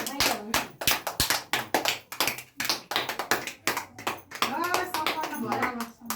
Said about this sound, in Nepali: ताली पड्काऊ न ताली पड्काऊ